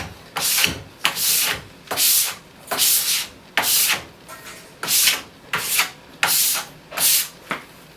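Wax being scraped off a snowboard base in about a dozen regular, close, rasping strokes, each a short scratchy burst followed by a brief pause, with no talking.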